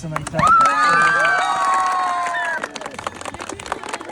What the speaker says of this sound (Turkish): Bugüne Alkış.